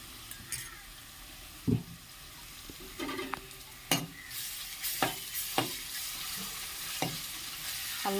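Ginger-garlic paste fries with onions in a pan, a soft sizzle broken by scattered metal spatula taps and scrapes, some close and crisp, others lighter.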